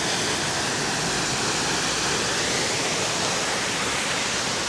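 Waterfall at Dyserth in North Wales, a dense, even roar of falling water filling the whole clip, close and loud with no pauses and no voices.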